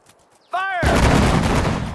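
A short tonal cue sounds in the World War II strategy game Sudden Strike 4, during the Battle of Hurtgen Forest. Then a loud, dense burst of sustained gunfire erupts and carries on to the end.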